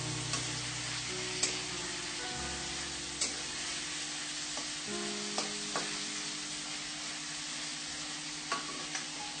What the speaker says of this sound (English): Let's wait until this paneer cubes turn light brown. Gently stir it, otherwise it might even be burned.